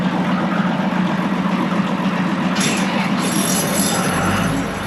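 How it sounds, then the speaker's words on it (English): A farm manure pump running at a pit with its hose line laid out, giving a loud, continuous mechanical rumble and whine that holds throughout, with a brief rise in hissing toward the end and no speech. "Start pumping."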